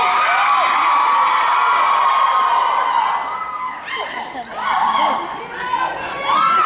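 A crowd at a fan convention panel cheers and screams with high-pitched whoops, loud and sustained before easing and swelling again in waves.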